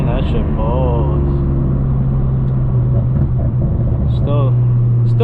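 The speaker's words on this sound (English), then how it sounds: "All you hear is turbo spool all the time." Turbocharged BMW 335xi with a six-speed manual accelerating in a low gear roll-on, a steady, loud engine drone with whirring turbo spool, while someone talks over it throughout.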